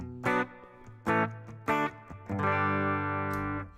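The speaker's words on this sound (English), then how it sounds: "we got a little bit of reverb." Electric guitar through an amp modeler plugin with reverb: three short distorted chord stabs, then a sustained chord ringing out with a reverb tail, loud and alone.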